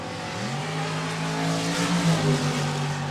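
A Ford Mustang drag car at a Funny Car drag racing event, with the engine roaring and rising in pitch as it launches and accelerates down the track, loud and sustained, no talking.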